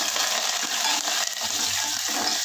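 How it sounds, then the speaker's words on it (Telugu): Curry leaves crackling and frying in hot tempering oil for a Telugu drumstick-leaf dal, a steady dense sizzle with small pops running throughout, close and fairly loud with no talking. "ఇలా కరివేపాకు వేసిన తర్వాత ఇదిగోండి చూసారా, మారుకోకుండా చక్కగా వేగినాయండి"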